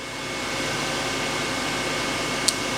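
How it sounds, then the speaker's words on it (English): Constant broadband mechanical hum of a spindle chiller running steadily on a Daewoo Puma 2000SY CNC turning center, with a faint tonal whine and one tiny click near the end. "Some of the sound you'll hear is from the spindle chiller."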